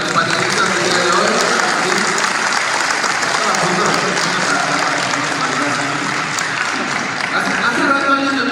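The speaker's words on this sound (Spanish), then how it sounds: "Un aplauso, por favor, para nuestros panelistas del día de hoy" At a fan convention panel, a large audience applauds the panelists with loud, continuous clapping that fills the hall, mixed with crowd murmur and a few voices, sustained evenly throughout.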